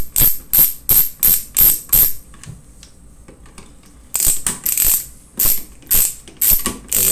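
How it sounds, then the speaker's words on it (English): Bolts are loosened with a ratchet on an LED light unit, giving loud repeated ratcheting bursts in a steady rhythm, then a quiet pause with faint handling noise, then more rapid ratchet strokes close by. "after we unscrew our 4 bolts"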